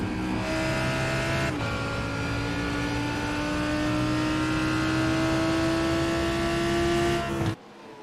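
A loud Lamborghini race car engine roars from on board at the Barcelona circuit, a sustained high-revving drone that climbs steadily through the gears, cut by a brief shift, with no talk.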